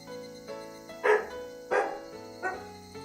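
A dog barks three times in short, sharp bursts, fairly close and alone over a faint steady hum.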